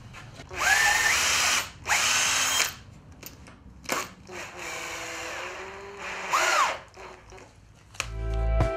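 A cordless power drill drives screws into pallet wood for a fishing rod rack, running in several short whirring bursts of a second or two each, close and clear, separated by pauses with faint handling noises.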